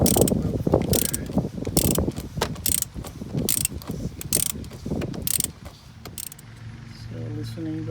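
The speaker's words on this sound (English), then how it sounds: "So loosening the oil filter out." A ratchet wrench with a 36 mm socket loosens the oil filter on a 20-year-old BMW X5, clicking in quick repeated bursts up close, with some talking in between.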